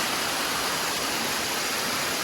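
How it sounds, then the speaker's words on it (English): A mountain stream on the Appalachian Trail in New Hampshire rushes steadily as a close waterfall, a dense, unbroken roar of white water with no other sounds. "This water just flumes right down the mountainside."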